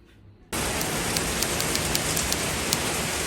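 Rain falling outside in Jamaica, a sudden dense hiss that starts after a half-second pause and continues steadily, with occasional louder drips and no talking.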